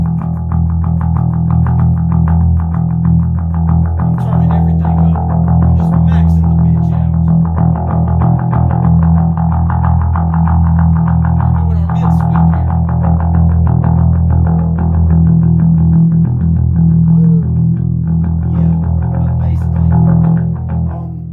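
Distorted electric bass through an overdriven preamp plays continuously and loudly, a thick, gritty low tone with sustained notes and fuzzy overtones throughout.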